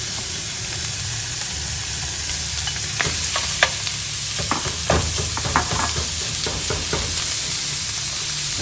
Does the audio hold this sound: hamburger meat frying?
yes